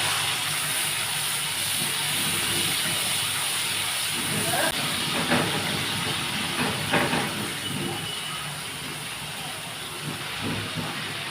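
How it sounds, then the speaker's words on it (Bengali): Spice mixture with bay leaf frying in oil in a wok for a fish curry, a steady loud sizzling hiss throughout with faint stirring scrapes. "কড়াইতে আরেকটু তেল দিয়ে তাতে তেজপাতা ফোড়ন দিয়ে মশলার মিশ্রণটা দিয়ে মশলাটাকে ভালো করে কষিয়ে নেব।"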